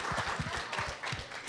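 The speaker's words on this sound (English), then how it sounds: "you need a big round of applause, for doing this" Applause from an audience at a tech investor event, faint and fairly dense with rapid individual claps audible within a steady patter.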